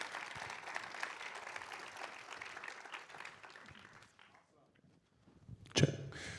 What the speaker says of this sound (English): Everybody give another round of applause